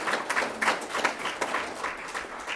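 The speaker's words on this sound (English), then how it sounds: "I just give him a round of applause." During a professional development event at a school of management, the audience claps for a new colleague. The crowd applause is brief and moderately loud, with a clear patter of hands.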